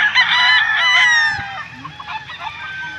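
A gamefowl bull stag crows loudly and close up, with a long harmonic crow followed by softer clucks and murmurs; no talking is heard.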